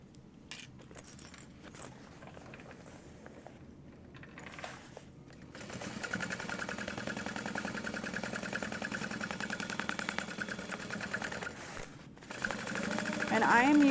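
A sewing machine stitches a Dreamer pack mini backpack, starting with short bursts and then running in a long steady whir, faint, with a person speaking.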